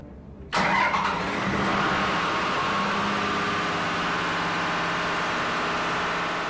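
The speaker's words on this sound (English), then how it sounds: "it's time to start the engine up for a test run" A fire pump engine starts up for a test run with a sudden loud catch, then settles into a steady, close, continuous mid-pitched running drone that holds for several seconds.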